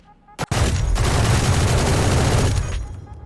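Loud, sustained automatic gunfire from an Odin in Valorant on the Ascent map, a dense unbroken burst of rapid shots lasting about two seconds after a brief opening shot.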